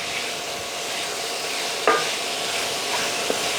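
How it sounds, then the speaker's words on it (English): Belly pork browning in a pan gives a steady, fairly quiet sizzle of fat. A short utensil scrape or clink comes just before the two-second mark and a small tap near the end. "So now I'm just gonna pour in the belly pork and brown it and let a lot of the fat come out."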